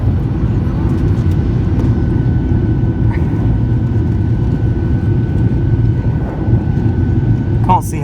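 Steady loud low roar inside the cabin of a Ryanair Boeing 737-8AS airliner as it brakes on landing, broadband rumble and whine holding constant, with a brief faint click near the end.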